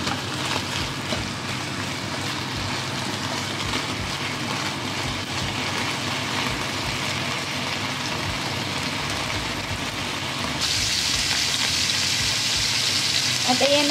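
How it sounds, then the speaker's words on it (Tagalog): Pork sautéing in its own rendered fat for adobo sizzles and crackles continuously, a dense, even frying hiss that grows slightly louder near the end. "igigisa ko muna ang pork para dito nakukuha ng sariling mantika"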